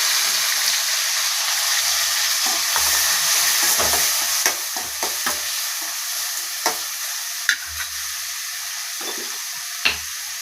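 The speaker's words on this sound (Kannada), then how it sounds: "ಈಗ ಈರುಳ್ಳಿ ಟೊಮೆಟೊ ಹಾಕ್ತಿದ್ದೀನಿ" Onion and tomato sizzle in a hot pan for dal khichdi, a steady loud frying hiss with occasional stirring scrapes and clinks, and no talking.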